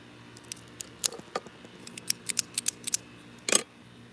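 A cigar cutter snips a Davidoff cigar. Crisp, close clicks and snaps come in an irregular series, ending in one firmer double cut, all in a quiet room with no talk.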